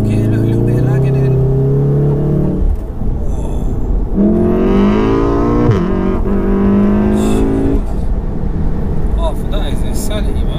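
A 600 bhp VW Golf R with a Turbo Technics turbo upgrade pulls hard in 4th gear, its engine note climbing loudly from inside the cabin, easing off briefly, then rising again, while people talk over it.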